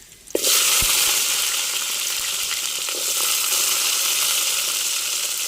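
Small shallots, fenugreek seeds and curry leaves hit hot oil with a sudden loud burst, then settle into a dense, steady close-up sizzle that holds to the end, with no voices.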